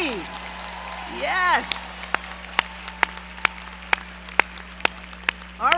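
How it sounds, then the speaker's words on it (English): A speaker's voice at a university commencement gives way to a string of sharp, evenly spaced hand claps close by, roughly two per second, before talking resumes at the end. "let's keep clapping because we have to give it up for all the proud families and friends in the audience"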